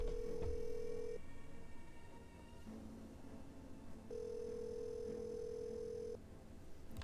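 A telephone in the Nancy Drew game Secrets Can Kill gives steady electronic tones in two long beeps separated by a gap, clear and close over a low background hum.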